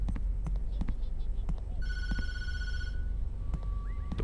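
A phone rings inside the horror game Tattletail, a bright electronic ring heard once at mid-level over a low rumbling game ambience with scattered clicks and knocks.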